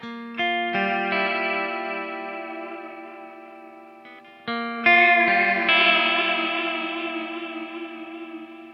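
Sustained electric guitar chords through a Walrus Audio SLÖTVÅ multi-textural reverb pedal, washed in shimmering, wavering reverb, two strummed passages each swelling and slowly fading with a lush, warbling modulation.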